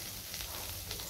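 Potatoes and bitter gourd frying in a pan with onion and green chilli, giving a steady close sizzle with soft crackles and no voices.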